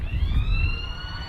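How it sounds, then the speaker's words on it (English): A wailing siren at a women's Australian rules football ground sounds steadily through the whole short stretch, a sustained rising electronic tone over low crowd and wind rumble. "That is the siren. I'm not sure the umpires have heard it."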